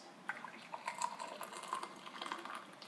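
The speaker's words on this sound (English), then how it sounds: "you get the kettle and you pour it into the glass" Very hot water from a kettle poured into a glass for fixing a dented ping pong ball, a faint, bubbly liquid trickle with light clinks, close by and without speech.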